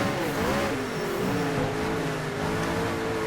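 A race car in a hill-climb racing simulator game, on the St-Ursanne–Les Rangiers course, accelerates hard and shifts up through third, fourth and fifth gears, its engine note rising steadily and loud throughout with no talking.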